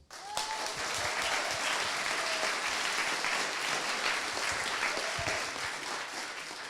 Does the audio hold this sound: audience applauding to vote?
yes